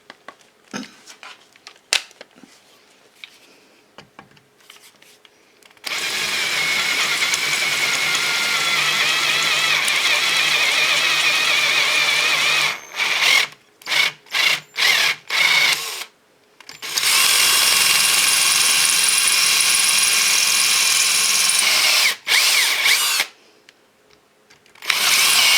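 A power drill whines steadily, boring a pilot hole with a 3/16 bit into a 2009 Mini Cooper door. It runs in two long continuous stretches separated by a cluster of short trigger bursts.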